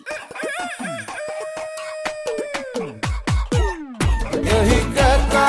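A rooster crows in a drawn-out, rising and falling call, loud and close, followed by a burst of clucking fowl and busy noise.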